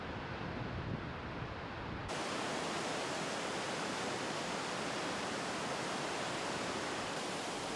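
The Yangtze River roars through Tiger Leaping Gorge in high waves, a broad, steady rushing torrent that swells louder after a couple of seconds and stays constant.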